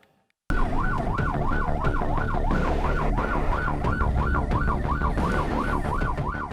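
An ambulance siren wails loud and close in a rapid, repeating up-down sweep as it passes a presidential convoy that has pulled over on Jalan Grobogan in Blora, Central Java, with road and engine rumble underneath.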